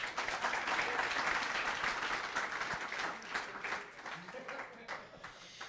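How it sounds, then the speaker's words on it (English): An audience at a React Native meetup in New York City gives a round of applause, a dense, fairly steady wash of clapping that thins and fades toward the end, with some voices mixed in. "So a round of applause for that, please."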